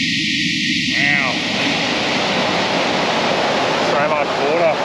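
Zumstein Falls in the Grampians pours heavy water in a loud, steady, close roar of broadband rushing that runs the whole time, with a voice speaking briefly over it.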